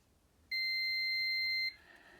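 A multimeter gives a single continuity-test beep, a clean steady tone lasting about a second, while probing the starter relay wiring on a Suzuki Bandit motorcycle with a starter fault.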